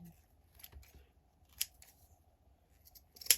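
Scissors snip fabric edges of a handmade scrunchie in a quiet room, with several distinct close-up cuts spaced apart and a few sharper clips near the end.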